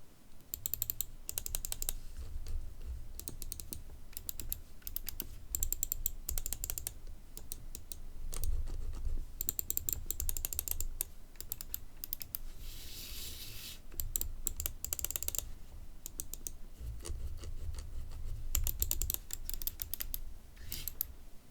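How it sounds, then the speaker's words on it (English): Dream Machines DM6 Holey Duo Wireless gaming mouse clicking in rapid, irregular bursts of sharp close clicks, with a steady low hum underneath and no talking. "Also, there is the sound of this mouse,"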